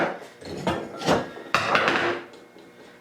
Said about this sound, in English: I don't like hitting the end of the crankshaft like that, but I guess that's what you have to do.